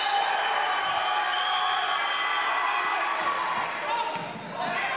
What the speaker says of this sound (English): Saegertown fans give him a cheer